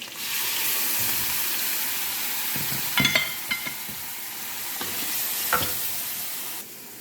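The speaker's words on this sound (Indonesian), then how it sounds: "Tumis sampai airnya menyusut. Diaduk-aduk terus agar tidak lengket di wajannya bumbunya." Ground spice paste for spicy fish gulai is sautéed in a wok: a steady, close sizzle broken by several sharp scraping clatters of stirring, without speech.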